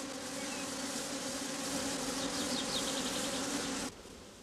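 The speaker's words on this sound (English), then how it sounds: "workers shaken out to make way for the grafts climb back into the hive" Honeybee workers buzz steadily and close by as they crawl back into the hive after being shaken out, a dense continuous hum that drops away sharply near the end.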